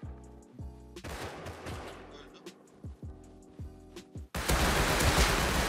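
Automatic gunfire from a Thompson submachine gun in the Rust video game, with several short sharp bursts of shots, then a loud dense roar of noise near the end, and some speech in the background.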